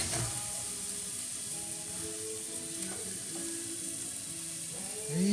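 Garlic, onion and bacon frying in a pan for a chickpea and bacon pasta, a steady bright sizzle running throughout with occasional faint clinks, close and fairly quiet, with no talk.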